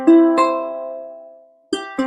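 Ukulele chord strummed once and left to ring and fade, followed by two quicker strums near the end, close and clear without voices.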